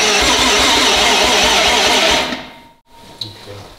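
An Audi RS4 saloon's engine cranking as it tries to start, giving a loud, fast rhythmic churning for about two seconds that then fades into near silence, with a brief click afterward.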